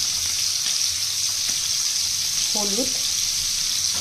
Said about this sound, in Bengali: আর এই চিংড়ি মাছগুলোকে আমি বিনা তেল দিয়ে এই জলটাকে খালি শুকনো পর্যন্তই ভাজবো।